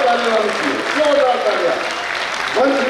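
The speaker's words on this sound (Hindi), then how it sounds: "जोरदार तालियां होनी, जोरदार तालियां।" Applause fills a room at a Lions Club meeting, steady and fairly loud for about three seconds, with voices talking over it.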